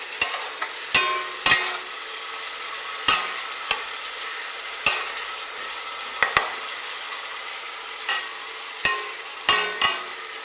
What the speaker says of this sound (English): This is the frying up